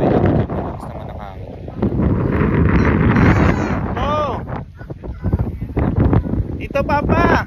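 Strong coastal wind at Yeliu Geopark buffets the microphone in loud, gusty roars, while people talk throughout.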